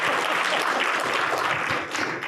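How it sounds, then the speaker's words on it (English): An audience at a cybersecurity workforce panel breaks into loud, sustained applause that stays dense and even throughout. "give them a big round of applause"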